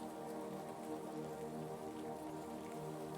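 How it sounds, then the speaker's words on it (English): Soft, steady rainfall patters evenly on surfaces, a quiet, continuous hiss of drops with no voices. "Feel and hear the rhythm of the rain."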